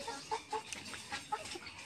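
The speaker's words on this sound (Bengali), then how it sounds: "দেখো সকাল সকাল ও মুরগিকে খাবার দিচ্ছে" Chickens cluck softly in a morning feeding at a rural hut, several short close clucks spaced irregularly over a quiet background, with no speech.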